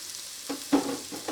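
Garlic dropped into hot bacon grease in a pan gives a few short sizzling bursts with stirring, close and moderately quiet, with no talking.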